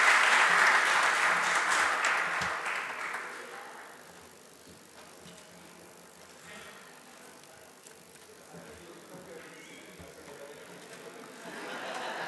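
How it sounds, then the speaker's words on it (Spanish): Audience applause for Doctor Lautaro Núñez at a cultural heritage event in Chile, loud clapping at the start that fades into a quieter hall murmur, then swells again faintly at the end. "un reiterado aplauso para el doctor Lautaro Núñez"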